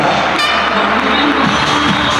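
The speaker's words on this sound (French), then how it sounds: "Applaudissements Benoît Lacaze" Crowd cheering and applause for a motorcycle rider at an indoor/outdoor trial event, a steady wash of noise with scattered shouts and whoops.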